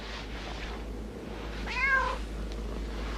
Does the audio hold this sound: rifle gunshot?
no